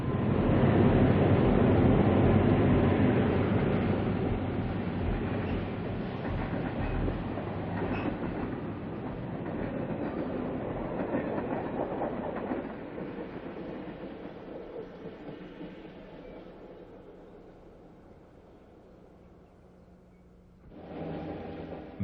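A diesel passenger train, the Fifth Avenue with fresh paint, rumbles across the Maumee River Bridge, loud and heavy at first, then slowly fading into the distance, with a short burst of renewed noise right at the end.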